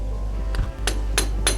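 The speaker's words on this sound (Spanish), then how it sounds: "Aflojamos el motor de arranque con unos suaves golpecitos que damos con un martillo de goma" Rubber mallet tapping a car starter motor to loosen it during removal, three or four distinct knocks spaced roughly a third of a second apart, close and clear over a low steady hum.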